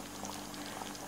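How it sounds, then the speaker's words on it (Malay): Fish curry sauce made with mackerel tuna bubbles in a pot, a soft continuous burbling simmer with small pops, close and quiet, no talk. "Biarkan dia mendidih"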